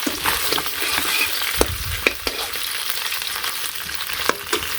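Fish frying in hot oil in a village kitchen, a steady close crackling sizzle with a few sharp pops and stirring clatters over several seconds.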